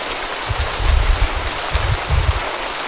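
Steady hiss of rain falling, with a few low thumping gusts or knocks underneath; no talking.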